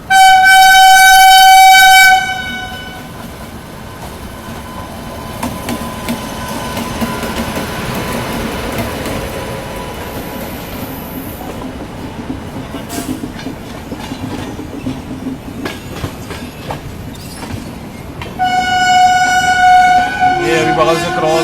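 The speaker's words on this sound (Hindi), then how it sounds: "बगल से क्रॉस हो रही है जोगबनी कोलकाता एक्सप्रेस।" The Jogbani-Kolkata Express passes close alongside, its loud horn blaring at the start and again at the end, with a long rushing roll of wheels and rattling coaches in between.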